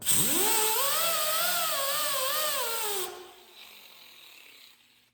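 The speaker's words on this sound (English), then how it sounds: "now I have white rouge all over the wheel, and I'm gonna go ahead and polish this up" A steady high whine of a motor-driven buffing wheel charged with white rouge polishing a hammer face, with a wavering pitch that cuts off abruptly around three seconds and leaves a fading hum.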